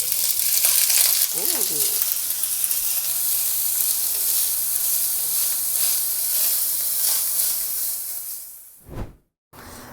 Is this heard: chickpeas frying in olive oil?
yes